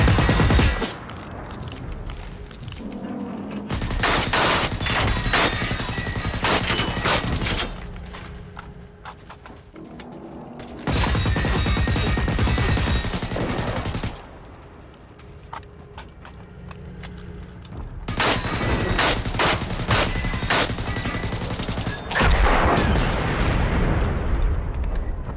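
Bursts of AK rifle fire in the Generation Zero video game, fought against an armoured truck, with several loud sustained volleys broken by short pauses and booming impacts.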